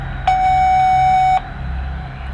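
A single clear electronic beep on a phone line, the tone before a caller records a name, holds steady for about a second over faint line hiss.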